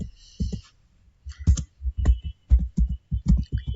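Keyboard keys on a computer are typed in quick, irregular clusters of close, crisp clicks with short pauses between bursts, and no voice is heard.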